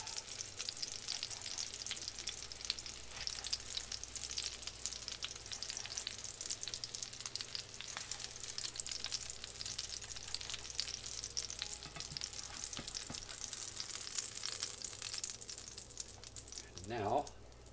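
Salisbury steak patties fry in a pan with a loud, steady sizzle that holds at a constant level throughout, broken briefly by a few soft scraping clatters near the end. No one speaks.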